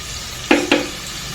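Onions with salt fry in a pan under a low steady sizzle, with two quick scraping knocks of a spatula close together, near and moderately loud, without talking.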